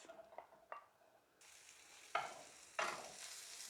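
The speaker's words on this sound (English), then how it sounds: "so into the melted butter, we're just going to add our onions." Onions hitting hot melted butter in a pan: quiet taps, then two sharp bursts of sizzling that settle into a soft, steady fry.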